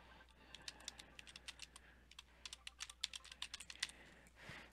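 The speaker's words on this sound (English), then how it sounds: "You next need to enter your student email address." Student email address typed on a computer keyboard: a close, irregular run of crisp key clicks with short pauses, heard alone.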